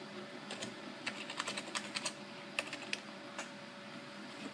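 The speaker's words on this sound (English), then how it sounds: "I'm gonna enter my password." Keys tap on a computer keyboard as a password is entered: a quick, irregular run of soft clicks, close but fairly quiet over a faint room hum.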